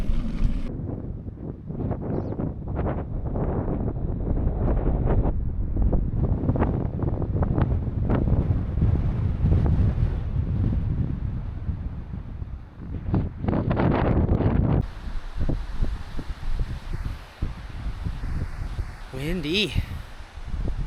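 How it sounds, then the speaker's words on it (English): Strong wind roars and buffets the microphone continuously for a long stretch, heavy low rumbling gusts that shift in intensity, on a bikepacking ride from Bragg Creek to Sibbald Campground. "Windy."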